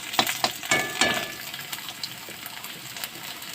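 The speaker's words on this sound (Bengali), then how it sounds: "রসুনটা আমি বেশ করে ভেজে নেবো" Garlic fries in oil in a pan with fried potatoes, opening with several sharp spitting crackles close by. It then settles into a steadier, softer sizzle.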